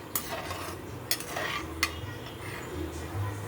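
Makhana and cashews fry in ghee in a kadhai, giving a steady soft sizzling hiss close by, broken by a few sharp metallic clinks of a spoon scraping and stirring against the pan.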